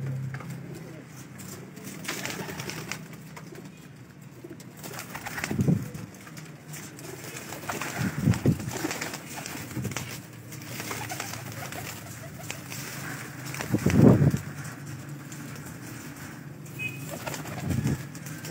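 Pigeons on a rooftop loft give soft cooing calls, with a few louder coos standing out over steady low outdoor background, a brief flutter or two, and no clear talk.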